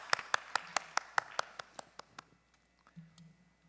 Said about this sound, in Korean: 축하 환영의 박수 하겠습니다